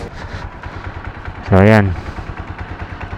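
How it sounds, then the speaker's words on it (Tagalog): A TMX Alpha motorcycle engine runs at a steady, close putter beneath a man's speech, then a loud, brief horn-like tonal blast rises for about half a second before the engine hum settles back. "Pakinggan yung makina guys."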